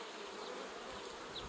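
Honey bees buzz steadily inside an open beehive full of brood, making a dense, continuous drone with no voices.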